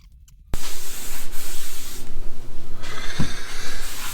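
Loud, close scratchy sanding on a wipe-on polyurethane wood finish starts abruptly after a moment of quiet, rubbing back and forth in a steady rhythm.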